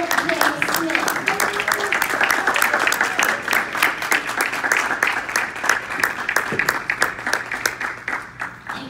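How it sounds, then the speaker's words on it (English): Sustained audience applause at a public speaking evening, dense rapid hand claps running steadily throughout at close range, with no voices over it. "So give her a round of applause, or put your hands together for Ramona J. Smith."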